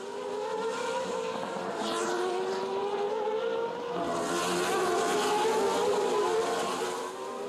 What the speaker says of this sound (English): as the cars were on their last lap, Verstappen took his opportunity and passed Jani's car